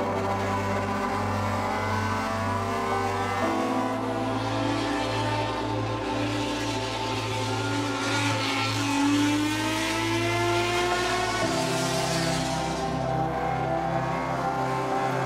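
A 1972 Nissan Skyline GT-R Hakosuka race car engine screams steadily throughout, high-pitched, its tone stepping between sustained pitches as it revs up to 10,000 RPM, loud and continuous with no voices.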